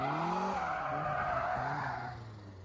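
Tires squeal and skid in a long, wavering screech as a Mazda Miata without power steering drifts, with the engine note rising underneath before it fades slightly at the end.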